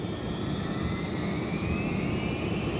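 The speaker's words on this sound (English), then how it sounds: "On takeoff, the 757 performed perfectly." Steady roar of a Boeing 757 jet airliner on its takeoff roll, broadband engine noise with a rising whine, loud and continuous throughout with no talking.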